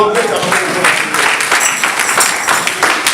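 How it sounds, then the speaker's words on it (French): A church congregation applauding, dense close clapping that runs steadily through the whole stretch, with voices calling out over it. "Acclamez pour vous-même."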